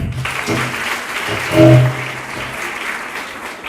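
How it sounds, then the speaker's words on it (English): Audience applause for scouts at a grade 6 graduation ceremony, a steady broad wash of clapping across the whole stretch with a brief tonal swell near the middle. "Let's give them another clap."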